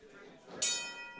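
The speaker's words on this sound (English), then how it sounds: "Referee Nick Ridenauer has called for the bell" At the start of a professional wrestling match a ring bell strikes once, a bright ringing clang that decays slowly over a commentator's voice.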